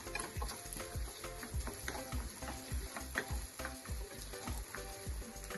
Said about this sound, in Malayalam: നമ്മുടെ എണ്ണ ചൂടായി. അപ്പോൾ നമ്മൾ ഈ അരിഞ്ഞു വെച്ചിരുന്ന തേങ്ങ ഞാൻ അത് ഇച്ചിരി ഫ്രൈ ചെയ്തെടുക്കുകയാണ്.